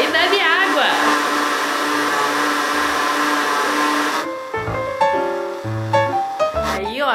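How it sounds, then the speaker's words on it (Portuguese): A kitchen blender whirring as it purees soaked cashew nuts with water into a milky liquid, a loud steady motor drone that cuts off partway, after which a voice talks. "agora eu vou bater no liquidificador até isso aqui ficar bem leitinho"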